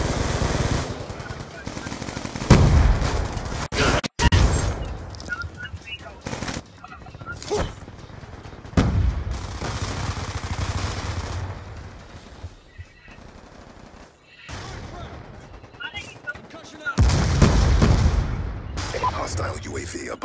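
Rapid automatic gunfire and explosions from the video game Black Ops 2, loud bursts and sustained volleys recurring throughout, mixed with game voice callouts over the shooting.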